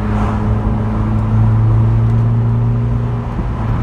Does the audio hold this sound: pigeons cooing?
no